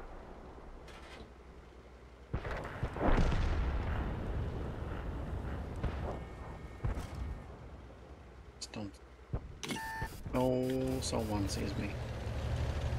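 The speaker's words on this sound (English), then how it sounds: "Oh no, artillery. Artillery again." A heavy artillery blast in World of Tanks booms with a deep rumbling impact, followed by smaller thuds and mechanical clatter, while someone talks throughout.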